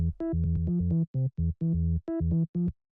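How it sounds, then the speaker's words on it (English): A deep, clean sub bass synth for EBM techno plays a short riff of sustained and clipped notes, loud and close, with brief gaps between phrases. "the next sound we have here is a sub"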